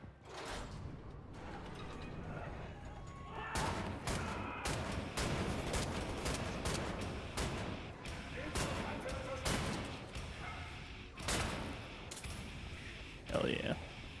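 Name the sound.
shotgun gunfire in video game Wolfenstein: The New Order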